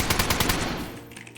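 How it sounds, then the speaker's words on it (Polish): Rapid bursts of gunfire in the video game DayZ, several quick shots in a row that fade out within a second. "Słyszę strzał."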